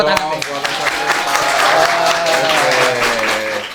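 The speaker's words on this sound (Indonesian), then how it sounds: "Oh iya, tepuk tangan." Junior high students at SMP Negeri 4 Jombang applaud during a police outreach session, a dense steady wash of clapping close by with some voices and chatter mixed underneath.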